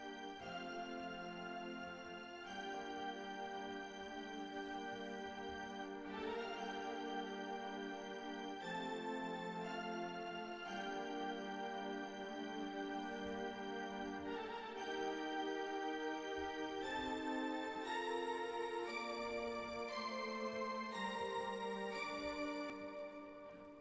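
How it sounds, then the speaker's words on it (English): Cellos and strings play the intro of an instrumental remake, sustained bowed chords shifting steadily at an even, full level with no talk. "So this is what the intro sounds like with the cellos and the strings"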